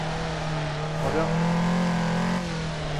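A car engine in the Assetto Corsa racing game, from the Japanese car pack, held at a steady high drone while drifting, with a brief swell in pitch midway, loud and continuous throughout.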